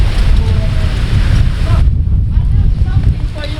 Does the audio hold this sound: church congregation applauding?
no